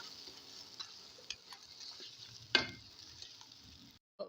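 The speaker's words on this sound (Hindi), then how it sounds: "इसमें ½ किलो चिकन ऐड करेंगे और इसको 5 से 6 मिनट तक भूनेंगे" Half a kilo of chicken stir-fries in a pot, a steady sizzle with occasional scraping clinks of a spoon stirring against the metal, one louder scrape standing out.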